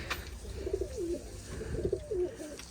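Pigeons coo softly in two repeated rolling phrases, fairly close against low background noise, with no talking.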